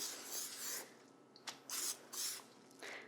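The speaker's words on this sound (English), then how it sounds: "I'm gonna spray each one with my cooking spray." Short hissing bursts of cooking spray hitting cut apple pieces in a kitchen, several quick separate sprays with brief pauses, close and fairly quiet.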